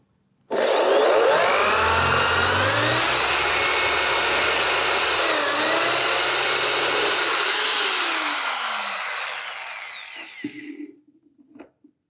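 A Bosch GSB 600 impact drill set to simple drill mode runs freely for about ten seconds, loud and close with a steady whine, then winds down and stops, followed by a few small handling clicks.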